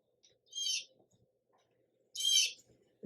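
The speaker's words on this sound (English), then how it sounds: "blue jays, they're loud, raucous kind of birds" Two loud, harsh blue jay calls, each a short raucous screech, rising from a quiet backyard with faint background noise between them.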